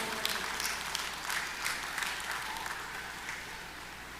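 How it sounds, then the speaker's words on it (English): Audience applause for Meritorious Service awardees at a National Day observance ceremony, steady and fairly soft, a continuous wash of many hands clapping throughout. "I now invite you to give another round of applause to all of our Meritorious Service"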